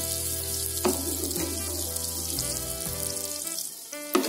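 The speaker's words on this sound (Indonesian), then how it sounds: "Kita tumis terus wortel." Carrots stir-fried in a pan for a spicy long-bean dish, giving a steady sizzle with clanks and scrapes of a utensil against the pan, and no voices.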